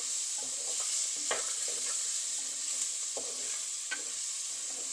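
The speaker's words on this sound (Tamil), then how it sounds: "இப்போ இதெல்லாம் இப்போ நல்லா மிக்ஸ் பண்ணி நல்லா வதக்கி கொஞ்சம் வதங்க விடுவோம்." Eggplant, potato, onion and garlic sizzle steadily in a hot pan while a utensil stirs them, giving a constant bright hiss broken by soft scraping clacks, close up and without talking.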